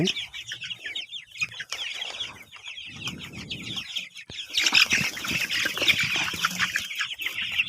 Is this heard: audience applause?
no